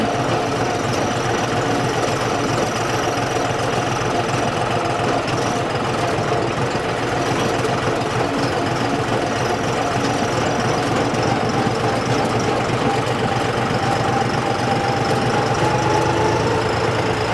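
A John Deere tractor engine runs steadily in third gear at roughly 800 to 900 rpm, a loud, close, continuous diesel drone with a low throbbing knock and no pauses.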